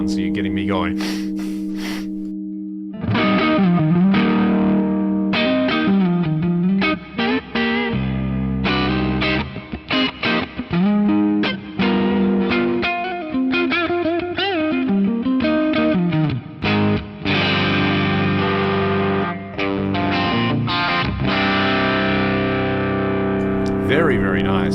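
An electric guitar played through distortion, chorus and echo effects pedals at a live jam, loud and sustained with bright chords and riffs running almost without pause after a short quiet opening.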